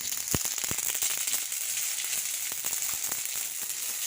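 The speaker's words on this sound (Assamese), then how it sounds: "কেৰাহীখন অকণমান তেল দিছোঁ, দি পিনে এইখিনি সৰিয়হ গোটাই" Whole mustard seeds sizzle in a little hot oil in a wok, a steady bright crackling hiss with a few sharp pops near the start, close and continuous with no talking.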